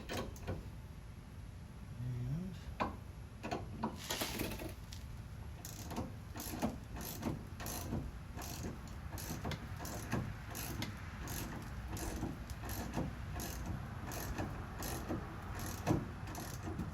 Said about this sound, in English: Check your wrench rotation.